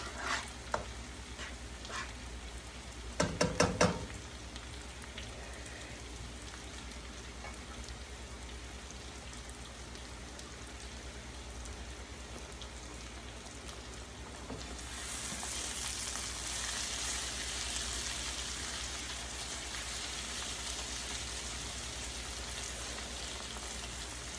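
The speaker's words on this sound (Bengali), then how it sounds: "মশলার মধ্যে তেল উঠে যাবে তখন আস্তে করে আমি মাছগুলো ছেড়ে দিব আলতো হাতে" Hilsa fish fries in hot oil with spice paste, a steady crackling sizzle that swells louder about halfway through, with a brief burst of clattering stirring near the start and no talking.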